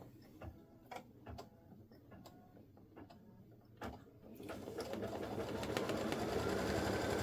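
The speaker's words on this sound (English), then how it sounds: "I'm going to put my fabric down on top of that, and I'm going to tack my fabric down" A sewing machine tacking down plain white cotton applique fabric, with steady quiet mechanical stitching and ticking that grows into a denser, faster whir toward the end, heard alone.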